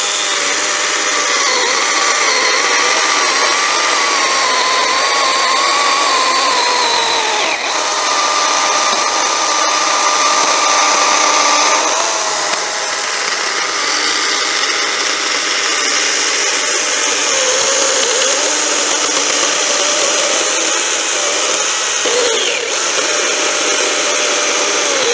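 A Stihl GTA 40 battery pruning saw cuts through a roughly seven-inch ash log from both sides, giving a continuous, close, loud buzzing whine whose pitch shifts as the chain bites and eases through the wood.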